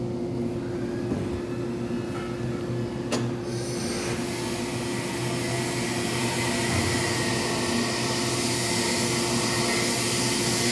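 Shot peen blast cabinet running with its special design nozzle working inside parts, giving a loud, steady industrial roar and hiss of blasting air and shot, with a brief clunk early on and no talk.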